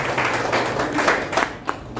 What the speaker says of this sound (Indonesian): Tepuk tangan untuk pemeliharaan Tuhan atas kita ya.